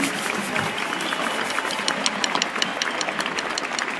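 An audience at a climate event applauds for those who worked to make the day happen, heard as dense, steady clapping from a crowd all the way through, with no talk over it.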